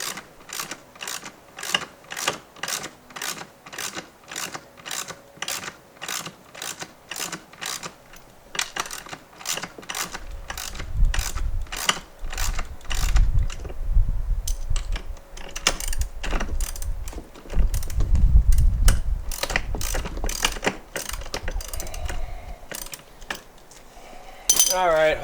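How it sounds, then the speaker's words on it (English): A hand ratchet clicks in quick, even strokes while tightening a nut during assembly of a Harbor Freight Franklin utility cart, close and clear. Later come bursts of rattling metal handling, with a voice talking faintly at times. "I got to try and tighten this down a little bit so I can get this other nut off of here."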